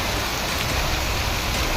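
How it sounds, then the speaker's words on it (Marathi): Heavy monsoon rain near Koyna dam in Satara district, a dense, steady roar of downpour that fills the whole moment without any break or voices. "सातारा जिल्ह्यात सध्या मुसळधार पाऊस पडत असून"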